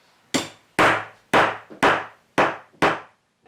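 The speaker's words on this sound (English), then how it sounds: "Tap tap hammer." A wooden toy woodpecker hammer from a Tender Leaf Toys tool box strikes six times in a steady rhythm, each hit a sharp, loud, close wooden knock with a short decaying ring, and no one speaks.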